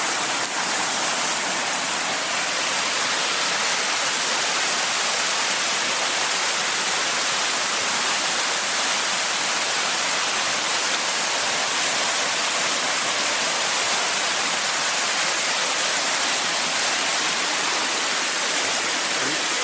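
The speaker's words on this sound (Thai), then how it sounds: "ก็จะมีน้ำธารสองสายไหลมาบรรจบกัน" Stream flowing over rocks near a jungle camp in southern Laos, a steady loud rush of water that stays constant throughout with no voices.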